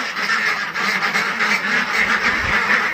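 A flock of laying ducks quacks continuously in a dense, moderately loud chorus, with no talk over it.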